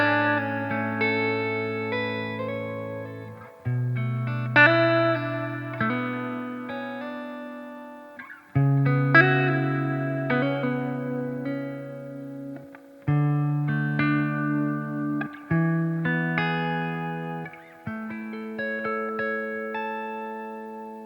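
An Ibanez Iceman IC420 electric guitar, neck humbucker, through a Fender Deluxe Reverb amp plays a series of strummed chords and ringing notes, the tone shifting from fairly clean toward a more driven, saturated sound.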